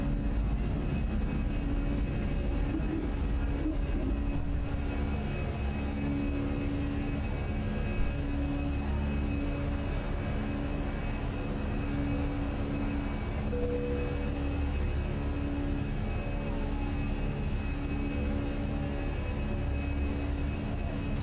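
In a flight simulator, an Airbus A320 climbs after takeoff with its gear retracting, giving a steady low engine drone and airflow rumble that holds evenly throughout, with no talking.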